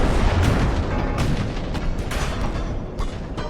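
Heavy naval guns fire in Ultimate Admiral: Dreadnoughts, a dense run of booming, rumbling blasts that roll into one another at close, loud range.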